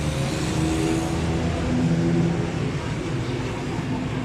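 A 2017–2018 Honda CG125 motorcycle engine runs at a loud, steady drone, rising slightly in the middle as it revs, with no talk over it.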